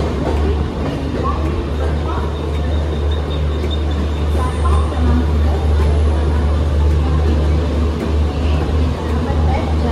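Riding inside the Konkan Kanya Express on the Konkan to Mumbai route, a deep continuous rumble and rattling carriage noise, with faint voices of passengers in the background.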